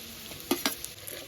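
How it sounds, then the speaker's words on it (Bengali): A fish head goes into bottle gourd curry in a pan, with a steady soft sizzle broken by two quick clattering stirs close together, then a low, even frying hiss. "এবার মাছের মাথাটা দিয়ে দেব।"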